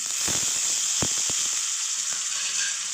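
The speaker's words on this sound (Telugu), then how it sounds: "అవి కూడా నీట్గా పోయిన తర్వాత టమాటో ముక్కలు వేసుకుంటున్నాను" Tomato pieces sizzle in hot oil in a pan, going in after ginger-garlic paste and curry leaves for a chicken curry; a steady close frying hiss runs throughout with a few light clinks and stirring knocks.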